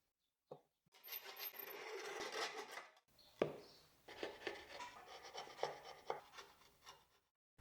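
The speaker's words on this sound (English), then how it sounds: "220 grit sandpaper." Old wood being sanded by hand with 220 grit sandpaper, a close scratchy rubbing in uneven back-and-forth strokes with a few sharp knocks between them.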